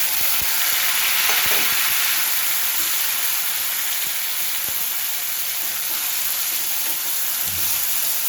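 Green chilies, slit before going in so they don't burst, fry in hot oil with a steady, loud broadband sizzle and a few soft spoon scrapes, close up and with no talking.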